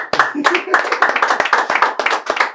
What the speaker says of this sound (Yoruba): ẹ bá ń pàtẹ́wọ́ fún un